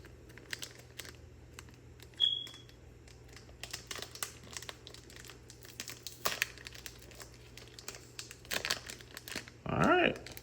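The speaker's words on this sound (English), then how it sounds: "Just ripping over some packs." One Piece trading card booster packs are torn open up close, with crinkling foil wrappers, sharp rips and scattered handling clicks, ending in a louder burst of crumpling.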